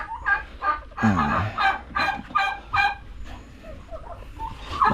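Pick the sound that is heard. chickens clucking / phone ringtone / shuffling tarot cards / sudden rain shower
chickens clucking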